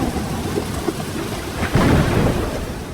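Steady rain pours down in a thunderstorm, a low rumble of thunder swelling up midway and rolling on beneath the hiss of falling drops.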